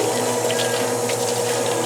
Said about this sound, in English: Now we tap water.